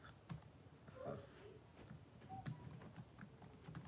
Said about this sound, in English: If I could type